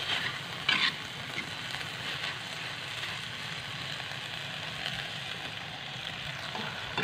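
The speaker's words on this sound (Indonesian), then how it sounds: "Aduk kembali sampai sayurnya tercampur rata." Kwetiau noodles stir-fried with egg and vegetables in a pan, a steady close sizzle and crackle of frying with occasional scraping stirs, no voices.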